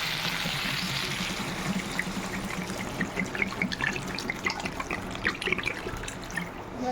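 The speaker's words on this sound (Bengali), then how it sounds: "এবার এর মধ্যে জল দিয়ে দেবো" Water pours into a pan of spiced crab curry, a close, steady splashing trickle that runs throughout and turns into bubbling, sizzling gurgles as it mixes with the masala.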